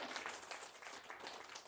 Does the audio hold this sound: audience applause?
yes